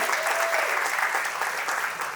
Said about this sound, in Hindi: एक जोरदार ताली रमेश सुहेल के लिए।